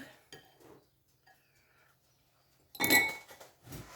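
A spoon knocks against a dish while stuffed peppers are prepared, one loud clattering clink standing out after quieter kitchen handling, with a softer rattle just after.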